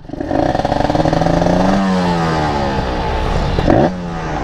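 A tuned motorcycle engine, set up for daily commuting, revs up loudly close by, holds a high steady whine, then blips once more near the end.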